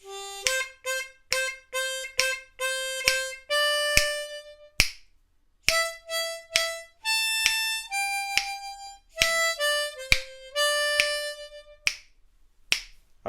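Harmonica playing the chorus lines, a quick series of short, clean staccato notes and a few held tones in a quiet room, with brief pauses between phrases.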